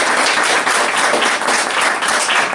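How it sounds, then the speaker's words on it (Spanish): Audience applause at a book launch event called Tránsitos Urbanos: dense, steady clapping from a crowd, loud and sustained throughout with no pauses. "Aplausos."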